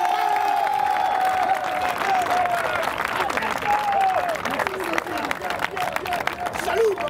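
A church congregation applauding and acclaiming Jesus Christ, dense continuous clapping and cheering from a large crowd, with a voice calling out over it and the applause holding steady throughout.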